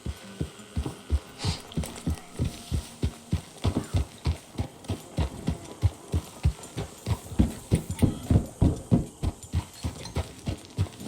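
Horse hooves clop in a steady, evenly spaced rhythm in Red Dead Redemption 2, close and fairly loud, continuing throughout with no speech.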